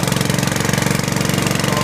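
Briggs & Stratton 5-horsepower small engine with a freshly rebuilt carburetor, running fully choked: a steady, rapid, slightly uneven chugging close by, loud and alone for the whole stretch.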